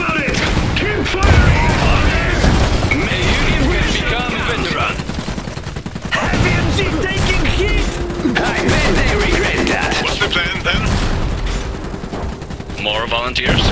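Rapid bursts of rifle and machine-gun fire crackle through a battle in the video game Iron Harvest, loud and near, with shouted voices calling out between the volleys.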